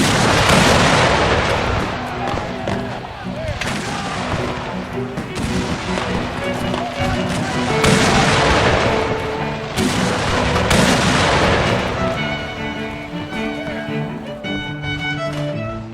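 A loud cannon and gunfire battle effect evokes the Civil War fight at Fort Sumter in 1861: heavy booms and crackling volleys overlap continuously, then thin into scattered ringing echoes near the end.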